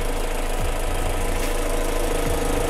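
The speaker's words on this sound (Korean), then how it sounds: "엔진 소리 역시도 매우 일정합니다" A 2.4-litre engine on a second-generation Jeep Compass Limited idles steadily with a constant low hum and faint knocking texture, close and continuous throughout, with no voices.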